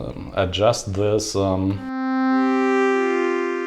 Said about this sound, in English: until it sounds a little bit like a string, like this one